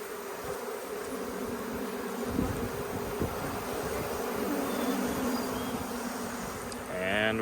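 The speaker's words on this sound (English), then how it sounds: "All the bees are figuring out where she's at since they're all fanning." A honeybee swarm fans around a caged queen, producing a dense continuous buzzing hum that stays steady and close, with a brief rising tone near the end.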